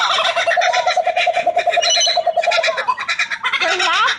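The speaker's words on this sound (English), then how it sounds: "that's what they're called, the laughing bird" Loud, rapid cackling bird calls of laughing kookaburras, several birds overlapping in a continuous raucous chorus close by.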